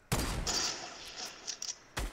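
Gunfire in the video game Fortnite, a loud sustained burst of shots followed by a few scattered quick reports and another sharp blast at the end.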